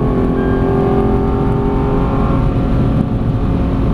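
A Lexus LFA engine drones loudly and steadily on the Silverstone track, holding high revs close by with a constant roar throughout.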